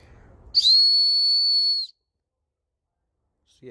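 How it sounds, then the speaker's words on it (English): A whistle built into a credit-card-sized multi tool gives one loud, steady, shrill blast of a little over a second, close up, followed by silence. "The whistle, this is what it sounds like."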